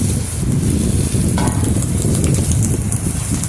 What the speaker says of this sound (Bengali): এবার আমি কেটে রাখা ঝিঙে আর বেগুনটা আমি এর মধ্যে দিয়ে দেব